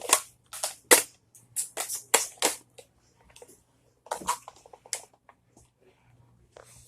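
A toy gun fires a rapid series of sharp close clicks and pops, then a scattered second burst of shots after a brief lull.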